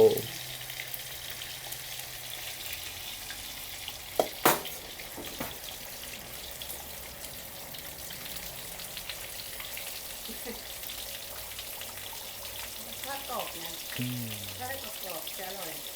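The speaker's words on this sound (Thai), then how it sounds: "เดี๋ยวเราไปดูแม่ทอดปลากันนะคะ" Fish frying in hot oil in a home kitchen, giving a steady crackling sizzle with a few sharp pops and clatters early on, while voices talk faintly in the background near the end.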